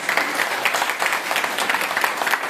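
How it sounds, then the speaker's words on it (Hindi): Loud, dense applause from a crowd gathered at a man's home in India, steady and sustained throughout with no pauses. "जोरदार तालियां सर के साथ"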